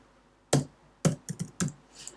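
Someone types carefully on a computer keyboard at a desk, a handful of distinct, close key clicks spaced irregularly over about two seconds.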